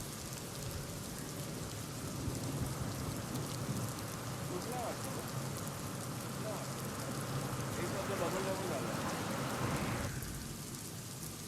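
Dense, steady roar of heavy rainfall, loud and continuous throughout, with muffled voices faintly underneath.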